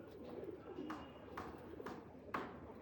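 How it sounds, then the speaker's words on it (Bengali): A male Giribaz pigeon coos nearby in a quiet space, a few soft rolling coos repeated in a slow rhythm, with no talking. "নিয়ে আসলাম একটা গিরিবাজ কবুতর।"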